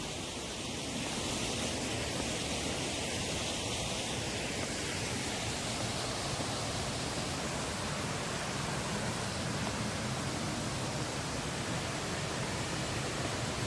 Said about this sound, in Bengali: ছোট্ট ফলস কিন্তু জল ভালো আছে এটাতে